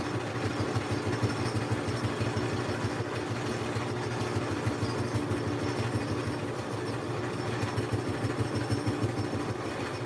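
Sewing machine stitching down a paper heart in a layered crayon and decoupage craft, running in a steady, even mechanical whir with a fast rhythmic pulse, fairly quiet and alone.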